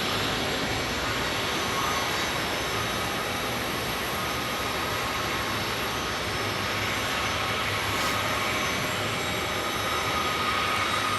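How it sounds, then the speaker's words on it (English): An American Airlines Boeing 777 jet lands after a flight from London, giving a steady, loud engine roar that holds evenly throughout with no talk over it. "We just had our 777 from American Airlines land from London"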